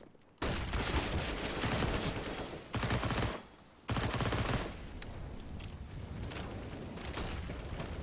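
Dense bursts of automatic gunfire from AK rifles, SMGs and FAMAS rifles in a Counter-Strike match, loud and nearly continuous with two short gaps near the start.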